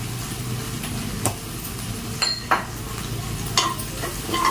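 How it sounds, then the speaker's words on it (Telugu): A spoon stirs paneer curry in a pan over steady low sizzling, with a few sharp scrapes and clinks against the metal rising out of the constant frying hiss; no voices. "వేసి బాగా కలుపుకోవాలి"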